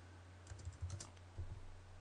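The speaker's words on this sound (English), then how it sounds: "let me just type in" Light, quiet tapping on a computer keyboard, a short irregular burst of keystrokes heard close up with no talking.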